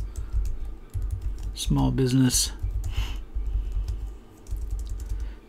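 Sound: typing a ChatGPT prompt on a computer keyboard

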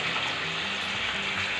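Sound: vegetable being stirred and mixed in a pan

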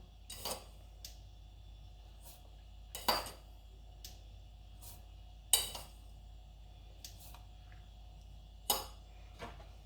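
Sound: spoon stirring tomato juice in pot

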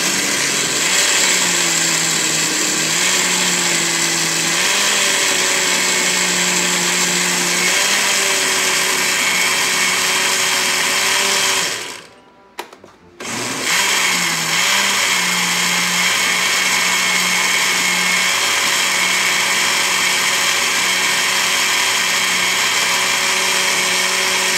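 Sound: blender blending carrot and pineapple juice

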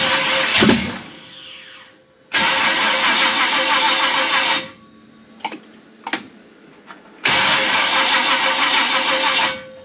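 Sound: Chevy big block engine cranking on the starter

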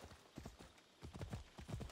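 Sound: horse hooves clip-clop in video game Assassin's Creed Odyssey

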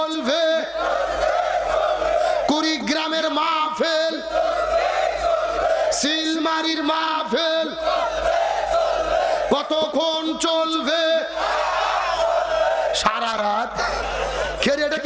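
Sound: crowd shouting takbir (Allahu Akbar) at a religious gathering

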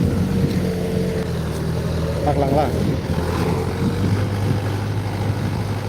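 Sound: tractor engine running in field

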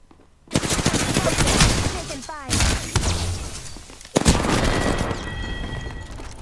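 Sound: gunfire in a video game

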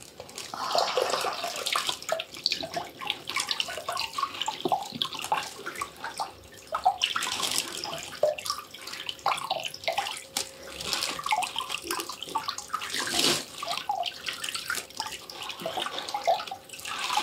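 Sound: rinsing feet with water during a detox foot soak

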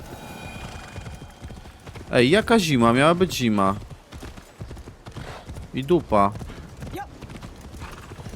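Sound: horse hooves clip-clopping while riding

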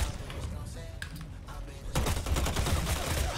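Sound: shotgun fire in a video game

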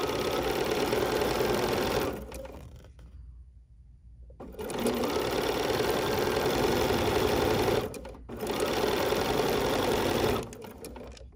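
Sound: sewing machine stitching fabric strip

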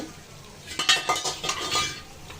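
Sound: frying onion in oil in a pot

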